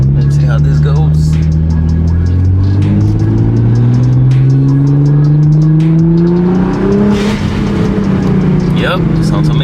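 A Nissan GT-R engine roars loudly as it accelerates through the gears, pitch climbing steadily, with sharp whooshing blow-off valve bursts and faint voices in the cabin.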